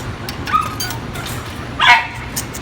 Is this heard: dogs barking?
yes